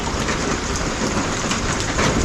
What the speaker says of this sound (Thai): บรรยากาศฝนตกยามแรง